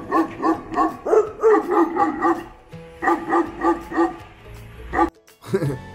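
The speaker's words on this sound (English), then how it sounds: "a couple of dogs that you can actually annoy for them to bark" Dogs on a tree-lined residential street in Montevideo, Uruguay, bark loudly and close in quick repeated bursts, two runs of rapid barks separated by a brief pause, then a final yelp.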